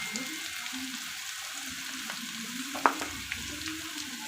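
Crushed green chili thecha with a pinch of turmeric roasts in a pan, a soft, steady sizzle with faint hiss throughout and a single sharp clink of a utensil near the end.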